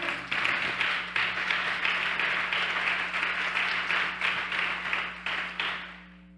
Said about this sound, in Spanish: Dale el aplauso al Rey.